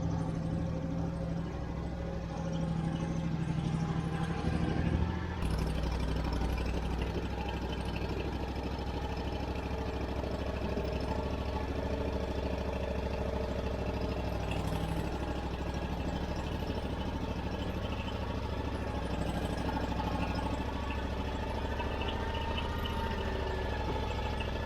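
A farm tractor idles in cold weather during firewood loading, a steady mid-to-low engine drone that runs continuously, shifting slightly in tone early on, with no talking over it.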